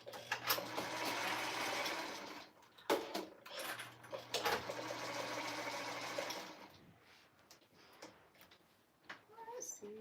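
A sewing machine stitches quilting fabric at a beachside retreat, running in two sustained whirring bursts with rapid ticking needle strokes, then stopping while people chat nearby.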